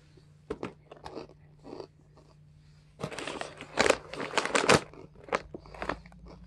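Close, dry crunching of Epic Crunch nacho Goldfish crackers being bitten and chewed, a few sharp bites first and then a dense burst of loud crunches.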